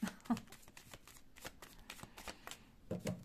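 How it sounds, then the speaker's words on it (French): Tarot cards shuffled and drawn from several decks, a run of crisp riffling flutters and soft slaps repeating through the stretch, close and clear with no talk. "je vais tirer 8 paquets de cartes"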